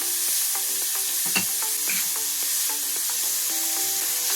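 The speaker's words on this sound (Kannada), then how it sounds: "ಇವಾಗ ನಾನು ತುರ್ದಿಟ್ಕೊಂಡಿರೋ ಬೆಟ್ಟದ ನೆಲ್ಲಿಕಾಯಿನ ಹಾಕೊಳ್ತಾ ಇದ್ದೀನಿ ಸ್ವಲ್ಪ ಅರಿಶಿನ ಸ್ವಲ್ಪ ಸಾಲ್ಟು" Grated hill gooseberry with turmeric and salt fries in a pan with a constant close sizzle, while a spoon scrapes and stirs in repeated light strokes.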